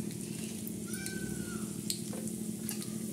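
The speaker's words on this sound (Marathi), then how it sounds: "आता ह्या तेलामध्ये आपण कांदा टाकणार आहोत" Onions hiss and sizzle in hot oil as a tempering for a spicy ridge gourd curry, a steady close frying crackle with a faint clink or two and no talk.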